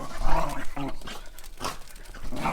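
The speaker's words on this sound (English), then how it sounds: "Sorry, that's the dogs." Dogs play fight at close range on a sheep farm, giving rough growls, whimpers and panting in quick overlapping bursts, loud and without talk.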